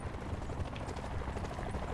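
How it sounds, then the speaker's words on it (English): Helicopter passing overhead during a Call of Duty Blackout match, a steady loud rotor rumble with dense broadband noise and no talk. "Chopper right above us."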